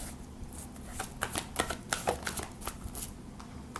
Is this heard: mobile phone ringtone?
no